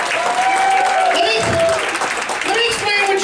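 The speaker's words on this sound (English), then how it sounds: "Big round of applause for Miguel," A crowd gives a steady, loud round of applause for the sound tech at a live show, the dense clapping sustained for the full few seconds with voices mixed in.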